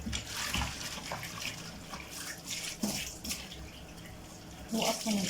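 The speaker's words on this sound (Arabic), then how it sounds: "شايفين انا بشطف الحوض جامد." Running water rinses a stainless steel kitchen sink, a steady close splashing hiss with brief louder gushes as the stream hits the basin; no speech is heard.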